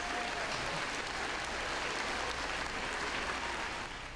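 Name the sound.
applause for teachers and staff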